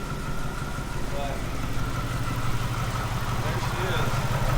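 A supercharged Jaguar S-Type R engine idles roughly with an uneven, misfiring note, a steady low rumble running under someone talking throughout.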